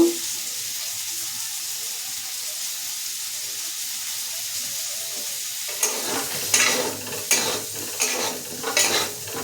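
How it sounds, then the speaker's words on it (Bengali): Jackfruit curry is stirred in a pan: a quiet, low simmer at first, then a series of distinct spatula scrapes and stirs with light sizzling, each stroke coming in short bursts close by. "আর একটু নাড়িয়ে নামিয়ে দেব"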